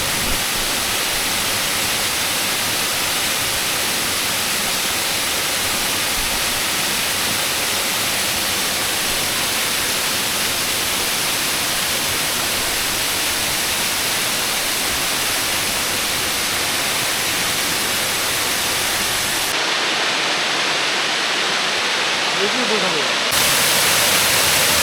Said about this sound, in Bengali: এটা হচ্ছে ঝরঝরি ঝর্ণা।